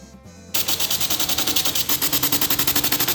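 A Hoffman tufting gun punches yarn pile into a rug in a fast, loud, close mechanical rattle that starts abruptly after a short quiet lead-in and continues at a steady rapid rhythm.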